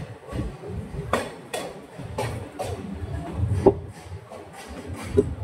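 A passenger train on the Diva–Ratnagiri run travels at speed, giving a steady rumbling roar broken by a regular series of sharp rail clacks, heard from on board.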